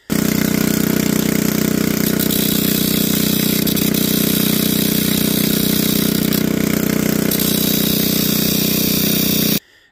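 A running Predator 212cc engine drones loudly and steadily while a 60-grit flap disc grinds down its shaft, the grinding tone riding over it, shifting briefly in pitch, then cutting off at the end.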